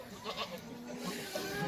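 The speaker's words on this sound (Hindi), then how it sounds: "ये बकरी है" Rajanpuri goat bleating in short, wavering calls close by, with faint farmyard background and no clear talk.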